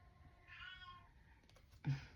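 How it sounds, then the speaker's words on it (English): A pet cat meows at a door indoors: one drawn-out, fairly faint meow followed by a sharper, shorter cry, with quiet room noise between them. "That's my kitty at the door"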